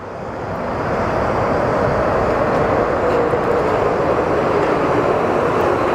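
A WestJet airliner bound for Regina taxis at Phoenix Sky Harbor airport, its engines giving a steady, broad jet roar that swells in over the first second and then holds constant and fairly loud, with no talk over it.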